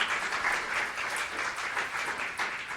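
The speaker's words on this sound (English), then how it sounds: "Can we have a round of applause for our panelists," An audience at a panel discussion on paid sick leave in New York applauds the panelists, a dense, steady patter of many hands clapping throughout, fairly loud and close.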